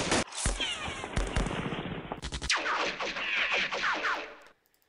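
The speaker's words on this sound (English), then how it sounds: "Let's bait your shot with machine gun." Machine gun fire in Campaign Series: Rising Sun, a WWII war video game, comes in loud, close bursts of rapid, crackling shots that repeat over several seconds before cutting off.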